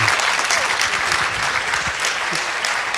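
Audience applauding Aung San Suu Kyi at a formal meeting, a steady, dense wash of clapping from a sizable crowd that holds evenly for the full stretch with no voices on top.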